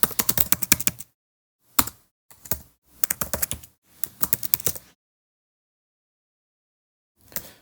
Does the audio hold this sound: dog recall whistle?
no